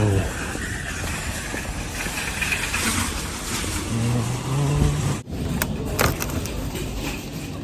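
Cars moving and idling in a busy Asda supermarket car park on a morning near Christmas, engines humming and passing steadily, with a faint jangle of keys.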